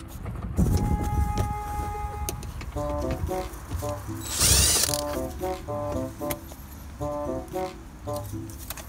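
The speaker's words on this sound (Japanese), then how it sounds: "こちらもドライバーで外していきます。" Screwdriver work on the Phillips screws of a Toyota Hiace sun visor, with clicky ratcheting bursts and light rattling at close range, plus a brief louder scrape near the middle.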